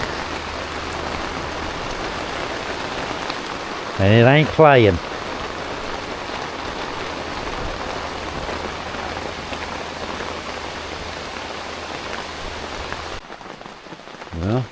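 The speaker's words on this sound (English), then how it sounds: "The rain is back, though." Steady rain patters on surfaces during a mountaintop storm camping trip, a dense, constant hiss throughout. Someone speaks briefly over it.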